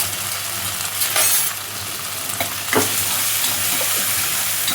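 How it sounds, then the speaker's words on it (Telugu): Peanuts and soaked moong dal frying in a pan, sizzling steadily up close while a spoon stirs them with occasional scraping and soft clinks. "పల్లీలు, పెసరపప్పు, నానబెట్టుకున్న పెసరపప్పు, అలాగే ఒకసారి కలిపేసుకుందాము"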